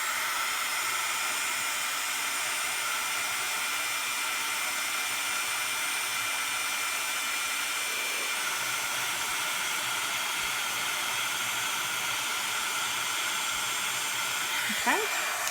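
A heat tool blows a steady, loud airy hiss while melting embossing powder on a stamped card, running unbroken throughout with a brief whine near the end.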